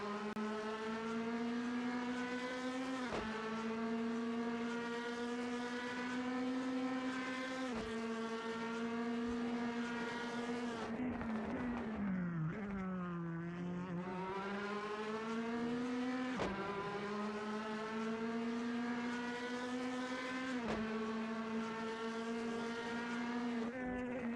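A DTM touring race car in a sim racing game powers through the Remus corner, its loud engine note climbing through repeated upshifts, dipping briefly under braking before accelerating hard again, with no other sounds.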